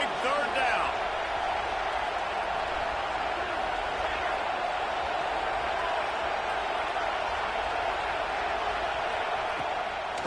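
A football stadium crowd roars steadily on a big third down, a broad, dense wash of cheering noise that holds at a constant level throughout.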